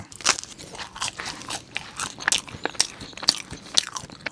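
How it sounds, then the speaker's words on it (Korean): Crisp crust of a delivery pizza crunching under repeated close bites, sharp cracking chews following one another steadily with no talking. "도우도 이거 바삭한 게"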